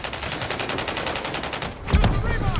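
Rapid automatic gunfire in Call of Duty on Rebirth Island, a loud sustained burst of evenly spaced shots followed by a heavier impact and continued noisy action.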